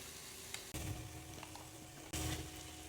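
Ginger garlic paste frying in a pan for fish biryani, a soft steady sizzle broken by a few sharp bursts as a spoon stirs and scrapes through it.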